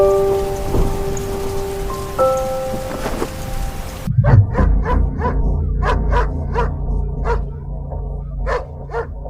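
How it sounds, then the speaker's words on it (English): A dog barks frantically inside a garage in Chachoengsao, Thailand: a rapid run of about ten loud, close barks at a steady pace, following a few seconds of unrelated background noise. "A dog's frantic barking led its owner into a trap-filled garage."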